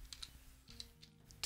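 A few soft, close key clicks are tapped on a computer keyboard over a faint steady hum, quiet and without voices.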